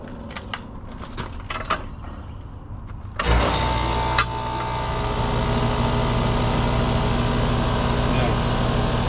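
A repaired air-conditioner condenser fan motor starts up after light clattering and handling noises, then settles into a continuous, fairly loud hum and whir that runs to the end.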